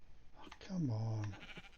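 A sheep bleats once in a video game, a drawn-out wavering cry in the background, with speech around it.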